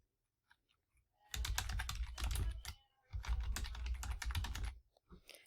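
Two bursts of fast typing on a computer keyboard while entering a guest email for a parent conference meeting, loud and close with a short pause between, no talk.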